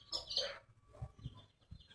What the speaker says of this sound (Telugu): దీంతో కోళ్ళు కూడా ఉన్నాయి